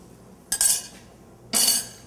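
A lid goes onto a pressure cooker with two distinct metallic clanks about a second apart, close and fairly crisp, with no talking.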